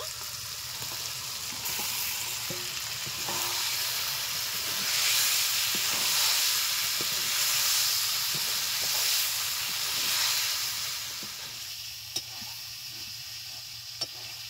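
Chicken meat frying in a pan with salt and turmeric for a jackfruit curry, giving a steady, close sizzle and hiss that swells through the middle, with occasional stirring clicks and no talk.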